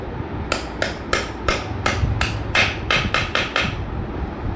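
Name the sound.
hammer tapping pin of Honda CD 110 engine crankshaft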